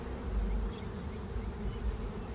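A close, continuous hum of many honey bees flying in and out at a hive entrance, with faint individual passes weaving through the steady drone.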